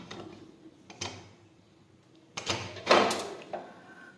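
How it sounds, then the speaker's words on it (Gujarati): A metal pressure cooker lid is shut and locked over urad dal in hot water, giving a few sharp clunks and clacks close by, with the loudest pair of knocks near the end over a quiet kitchen background. "હવે આપણે કુકરનું ઢાંકણ છે તે બંધ કરી દેશું।"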